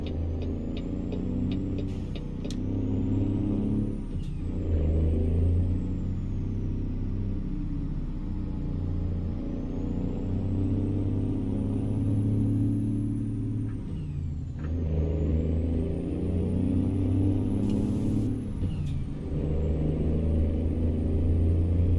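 A Freightshaker Classic XL semi truck in American Truck Simulator drives with a loud, steady diesel engine rumble that rises and falls as it shifts and accelerates, with touchy air brakes hissing briefly a few times.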